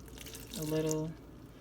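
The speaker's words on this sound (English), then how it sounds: "you're gonna add your water" Water is poured into dumpling dough for a Jamaican-inspired chicken soup, a short, soft trickle lasting under a second amid quiet kitchen background.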